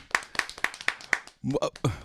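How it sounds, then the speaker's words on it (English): Five or six sharp, evenly spaced hand claps on a morning radio show for a caller, close and distinct, followed by a brief burst of talking. "let's clap for this dude, man."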